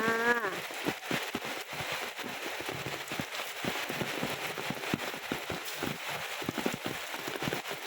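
Steady rain pours down outdoors at a flooded home, a dense hiss of drops hitting surfaces with frequent sharp patters and splashes throughout, close and continuous with no talk.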